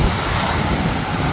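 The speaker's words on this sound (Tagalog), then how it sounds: "Ay, mahangin guys, malamig sa kamay." Strong outdoor wind in heavy snow in South Korea buffets the microphone with a steady, loud, broadband rush, unbroken from start to finish.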